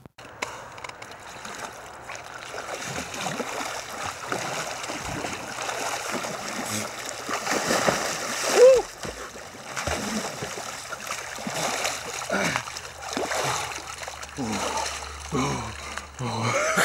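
A person plunges into icy, salty water for a winter swim at minus 32 degrees. Sloshing and splashing continue steadily, with one sharper splash midway and steady outdoor background noise.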